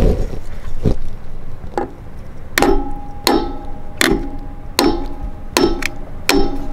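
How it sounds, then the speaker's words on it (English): Sharp hammer blows strike repeatedly, a few faint ones at first, then a steady run of loud, ringing hits about once every three-quarters of a second. "I still want to hammer it in the top a little more."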